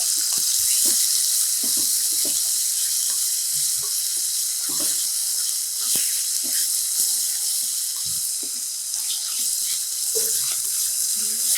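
Boneless chicken pieces sautéing in a pan for chicken vermicelli soup, giving a steady, close sizzle with scattered crackles and occasional stirring clatter throughout, no talking.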